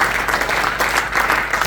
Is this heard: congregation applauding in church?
yes